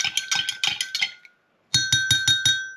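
A metal spoon clinks rhythmically against the side of a cup while stirring sugar into milk, two quick bursts of bright repeated taps separated by a short pause, close and clear.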